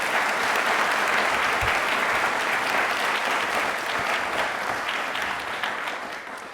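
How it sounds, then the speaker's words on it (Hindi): Strong, sustained applause from a university audience at a televised quiz event, cheering engineers; a thick, even roar of clapping that holds steady, then eases slightly toward the end. "दिल से तालियां उनके लिए बनती हैं। जोरदार एक बार हो जाए, कम ऑन।"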